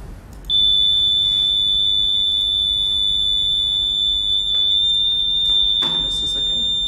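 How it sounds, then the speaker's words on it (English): A piercing, steady high-pitched electronic buzzer starts abruptly and drones on without a break, loud and close, with faint clicks and handling noise underneath. "Let us test the other buzzer also."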